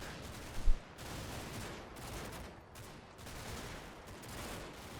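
Wargame battle gunfire from Combat Mission Red Thunder, a sustained distant crackle of rifle and machine-gun volleys that surges in waves, with one sharper thump near the start, all fairly faint.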